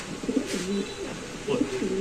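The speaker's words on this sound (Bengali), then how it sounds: "এটা হলো ক্রিম বার কবুতর" Soft, low coos from a cream bar pigeon in two short bursts, close by, with faint background noise between them.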